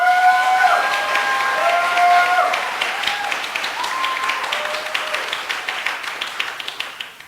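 A church congregation applauds during a Saturday worship service, a dense sustained wash of clapping over fading sustained musical tones that thins into scattered claps by the end.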